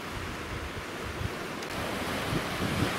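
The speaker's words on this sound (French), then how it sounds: "et le ressac." Ocean surf washes onto the beach at Dinard, Brittany, as a steady broadband roar with gusty wind buffeting the microphone and no voices.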